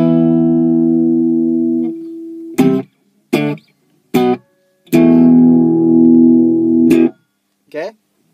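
An electric guitar with no effects, played through a clean signal chain, rings out sustained chords and short plucked notes with clear pauses between them, loud and close.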